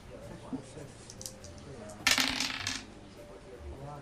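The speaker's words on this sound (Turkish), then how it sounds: "kurtarma zarı atmanız gerekecek. Tamam. Ben atıyorum." A brief hard clatter of dice tumbling and rattling onto a surface during a tabletop role-playing game, over a quiet room hum.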